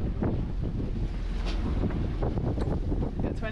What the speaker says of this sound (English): 25 knot winds was all it had, which was lucky, and it quickly passed.